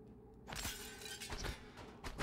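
Glass breaks in the video game Prey as a window is smashed, a loud sustained crash of shattering with scattered tinkling fragments.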